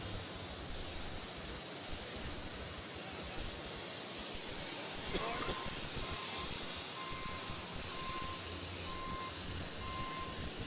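Dusty Arfons's turbine-powered Dragon Lady pulling tractor roars at the 1995 National Farm Machinery Show tractor pull finals, a loud, steady jet-like whine and rumble running the whole time with no talk.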